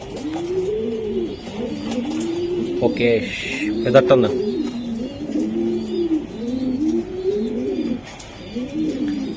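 Racer pigeons coo in a steady run of low, repeated rolling calls close by, while someone talks over them throughout.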